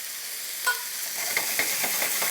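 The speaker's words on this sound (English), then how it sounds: "We know it's nice and hot because the telltale of the sizzle is what lets us know that." Butter sizzles with vegetables in a hot pan: a steady frying hiss with scattered small pops and crackles, close and moderately loud, with no talking.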